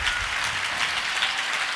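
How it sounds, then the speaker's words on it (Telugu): A church congregation at a Hosanna Ministries gathering claps loudly and steadily, a dense, continuous wash of many hands throughout with no voices standing out. "చప్పట్లు కూడా మరి గట్టిగా కొట్టండి చప్పట్లు"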